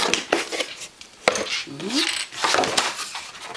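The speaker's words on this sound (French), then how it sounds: "Nous allons découper une petite lanière de la largeur du fermoir et de la longueur d'une partie du couvercle" Thin cardboard being cut into a small strip, with short scraping and snipping sounds close by, one after another, over quiet background noise.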